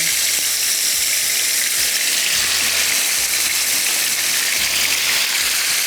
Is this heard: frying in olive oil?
yes